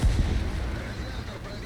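A tank shell strikes a tank with a jammed, damaged turret ring in the tank combat game War Thunder, giving a loud booming impact at the very start followed by a sustained rumbling, noisy battlefield wash.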